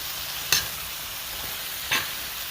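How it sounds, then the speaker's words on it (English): Lamb chops sizzle in a pan while a honey garlic mixture is basted over them, a steady close hiss broken by two brief spoon scrapes, with no talk. "While it's inside of the pan, I'm going to take my honey and garlic mixture and just base it"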